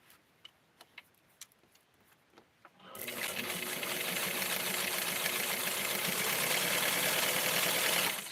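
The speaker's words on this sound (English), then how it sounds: "I am going to sew this in" A sewing machine stitches lace ruffle for Barbie doll clothes. Soft clicks and taps come first, then the motor starts into a loud, steady, fast running whir that continues close up to the end.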